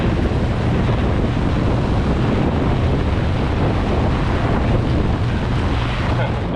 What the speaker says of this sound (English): one of the worst storms we've ever encountered hits us